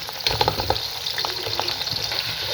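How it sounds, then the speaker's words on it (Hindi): Cumin seeds with onions sizzle and crackle in hot oil as the base for a potato and eggplant curry, a steady close frying hiss with occasional stirring scrapes and no talking. "ये थोड़ा सा फ्राई होता है तो इसके अंदर फिर मैं प्याज डालती हूँ।"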